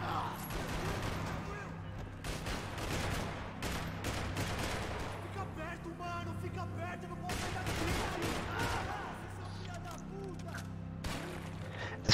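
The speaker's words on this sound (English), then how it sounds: "Alright, looks like we're on a firefight here." Dense, sustained gunfire fills a firefight in Max Payne 3, with overlapping rapid shots and bursts crackling continuously under a steady game soundscape, loud and close throughout.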